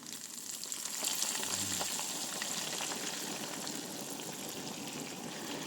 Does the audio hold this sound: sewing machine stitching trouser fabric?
no